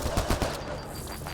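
A quick burst of four or five sharp gunshots from enemies in Mass Effect: Andromeda, loud and close, then a lingering noisy tail that fades.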